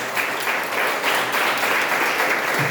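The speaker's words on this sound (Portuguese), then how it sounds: "Você pode aplaudir o Senhor aí, mas" Dense, steady applause from a church congregation praising the Lord during a worship service held in a garage, sustained and fairly loud for the whole stretch.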